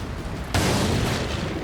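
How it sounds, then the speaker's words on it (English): An anti-tank gun fires a single deafening blast, which starts abruptly and keeps roaring loudly to the end. "When an anti-tank gun fires at you, it makes a deafening noise."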